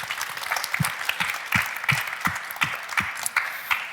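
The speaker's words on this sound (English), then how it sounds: "give a big round of applause to our experts." A crowd at a student event in Turku applauds to congratulate a group of experts, with moderate, evenly paced clapping carrying a clear rhythmic pulse throughout.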